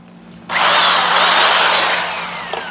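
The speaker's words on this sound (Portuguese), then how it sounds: "a furadeira aqui, ó, tá ligado nele" An electric drill, powered by a 110-volt homemade solar power station, whirs up to full speed and keeps running steadily and loudly, slowly easing off near the end.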